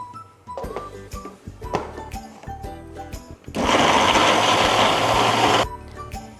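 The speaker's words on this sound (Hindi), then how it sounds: "अब इसको अच्छे से ग्राइंड कर लेंगे, बिल्कुल स्मूथ सी।" Blender grinding hummus paste until smooth, a loud steady whirring burst of about two seconds that starts abruptly after a stretch of clatter and stops just as suddenly.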